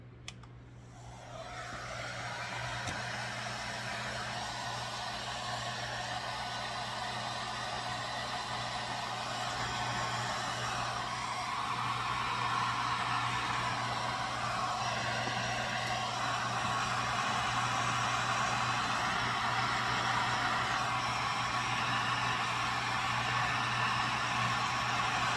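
A heat gun blows steadily on a boat's coachroof trim ring, a constant airy whoosh with a low hum that holds unchanged for the whole stretch, fairly quiet and close.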